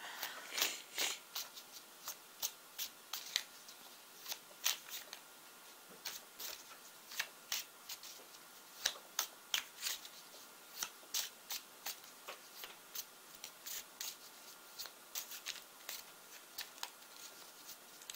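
Tarot cards are shuffled and drawn by hand, giving a long run of quick, crisp card snaps and riffles in an irregular rhythm, close and fairly quiet, with no talking.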